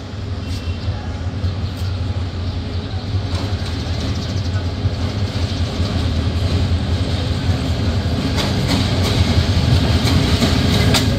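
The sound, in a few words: Upaban Express train entering Sylhet railway station platform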